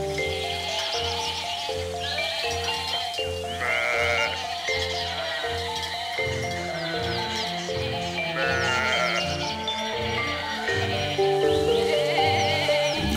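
Sheep bleat repeatedly in a mountain pasture scene from an animated film, a flock's cries layered over a steady tonal backdrop, fairly close and continuous.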